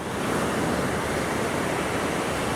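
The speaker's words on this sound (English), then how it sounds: "I'm at the beach today" Waves and surf wash continuously onto a beach, a dense, even hiss and roar of breaking water that fills the whole moment without pause.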